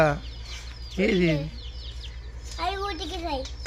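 Village chickens with many chicks, clucks and faint high chirps heard close by, with people talking over them and a steady low hum underneath.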